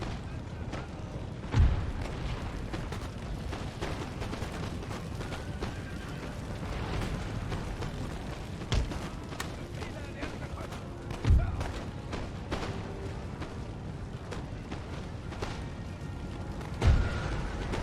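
Cannon fire in an Empire: Total War battle, with four or five heavy booms spaced unevenly through a constant rumbling battlefield din, each thud standing out briefly above the noise.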